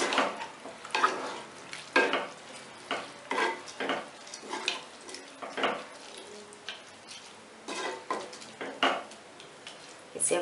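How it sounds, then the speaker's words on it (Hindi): Vermicelli upma being stirred in a pan, a spoon scraping and tossing the sizzling semiya in repeated strokes about once a second, close and clear, with faint frying underneath and no talking. "अब हम इसे मिक्स करते हैं।"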